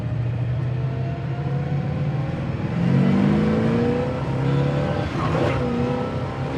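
A 1969 Camaro Z28 V8 idles and revs steadily after warming up, with a loud, continuous engine drone close by that rises in pitch as the throttle opens around the middle.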